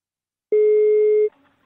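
A single steady ringback tone of about three-quarters of a second sounds on a phone line while calling Marina, loud and clean, then cuts off into faint line noise.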